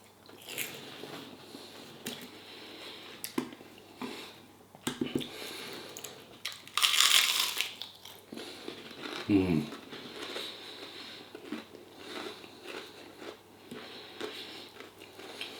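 Crispy beer-battered onion rings are bitten and chewed close up, with scattered crunches and one louder bite in the middle, alongside quiet talk and faint background hum.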